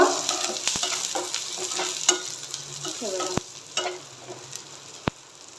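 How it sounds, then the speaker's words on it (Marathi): Onion with green chili, ginger, garlic and cumin sizzles in a pan, a steady close frying hiss broken by sharp scrapes and clacks of a spoon stirring, with no voices. "त्याचसोबत जिरं देखील मी ॲड करणार आहे आणि ह्याला एक मिनटं परतून घ्यायचं आहे फक्त"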